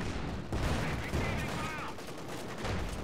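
Rapid bursts of gunfire and heavy cannon-like booms from a World War II strategy game battle, a Panzer tank firing on conscript infantry at a castle, crackling continuously through the whole stretch.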